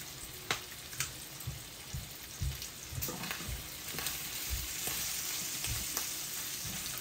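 Bacon frying in plenty of oil in a pan, a steady crackling sizzle with scattered pops and occasional stirring or clinks, close and moderately loud.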